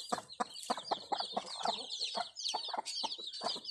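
Chicks and chickens on a small farm cluck and peep in quick repeated bursts, nearby and fairly loud, with higher chirping running throughout.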